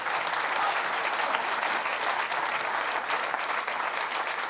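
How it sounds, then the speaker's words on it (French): An audience at a French artisan chocolate show applauds a world chocolate vice-champion, a dense, steady burst of clapping from a crowd filling the whole moment. "Ça s'applaudit."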